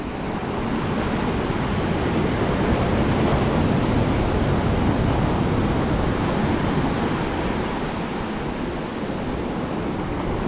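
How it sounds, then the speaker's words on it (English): Ocean surf at Punta Mita, Mexico, rolls in as a steady, dense wash of breaking waves, loud and continuous throughout with a broad roar and some wind, no talking. "Whoa, look at those waves."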